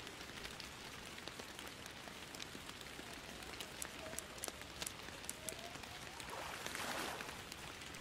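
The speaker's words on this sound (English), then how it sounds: "I mean, it is raining" Steady rain falls in the fishing game Fishing Planet on a Michigan lake, a constant patter with scattered sharper drop ticks and a brief swell of water noise near the end, with no voices.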